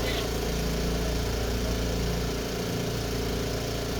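A malfunctioning engine on a pipe repair machine, apparently clogged, runs continuously with a loud, steady mechanical drone and hum, while people talk faintly in the background.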